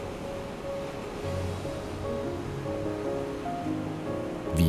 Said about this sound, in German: Die über 200 Kilometer lange, weitgehend flache Mittelmeerküste bietet Sandstrände ohne Ende.